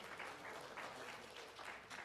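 Applause from an evening audience at a national fiddle contest, a dense, even patter of many hands clapping at a distance, steady for the whole stretch with a faint voice mixed in.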